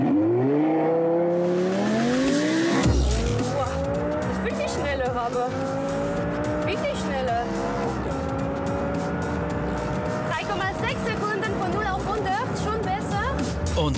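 A tuned SKN Audi R8 accelerates hard toward 200 km/h: a loud, close engine note climbs through repeated gear changes, each pitch sweep rising and then dropping, under a steady roar with brief tire noise.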